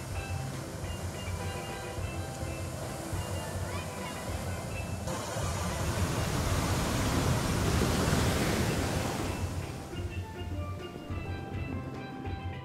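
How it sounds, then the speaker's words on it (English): Big ocean waves break at Hanalei Bay beach on Kauai, a broad steady roar of surf that swells louder midway, then eases, with talk faintly underneath. "Hanalei Bay, with white sand beaches, lush vegetation, and some pretty big waves that day"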